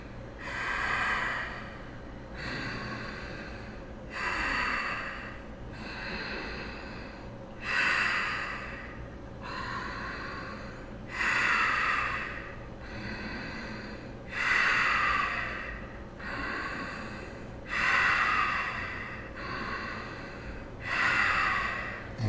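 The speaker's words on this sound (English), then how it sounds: "Inhale and exhale." Deep yoga breathing in a slow, even rhythm: loud, close, airy inhales and exhales swell and fade about every three seconds, with no talk over them.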